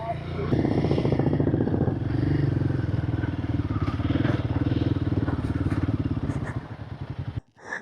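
An adventure motorcycle rumbles steadily along a road near Ambaji Durga, its close engine drone and rattling clatter continuous for most of the stretch before cutting off near the end.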